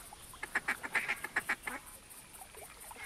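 Duck calls in the hunting video game theHunter Classic: a quick series of about eight sharp, nasal quacks and honks in a burst, followed by fainter scattered calls in a quiet background.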